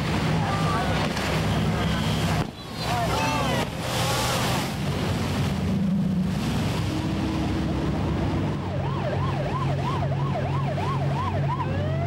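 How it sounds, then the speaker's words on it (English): Boat engines roar and whine alongside wailing sirens and horns, with voices talking over the busy, loud mix of an annual free-for-all boat race on the waterfront at Old Harbor, Alaska. "the boats lined up for the annual boat race, which was more like a boat free-for-all."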